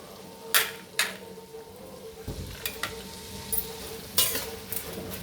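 Veg biryani mixture of rice and vegetables stirred in a pot, with a handful of sharp scraping knocks of the spoon against metal over a steady low sizzle, no voices.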